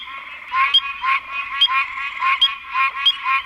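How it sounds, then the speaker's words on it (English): Spring peeper frog calling in a close, steady chorus of rapid trilled peeps, repeating in regular bursts about every half second, with no voices over it. "but this is a spring peeper right here."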